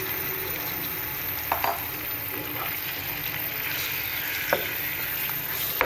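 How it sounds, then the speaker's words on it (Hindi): Marinated chicken frying in a karahi while cooking white chicken karahi, a steady broadband sizzle with a few brief clinks of stirring, close and continuous, no voices. "ये जो मैरिनेशन किया हुआ है हमारा चिकन ये मैंने डाल दिया है। इसको मैं अच्छे से भून लूँगी।"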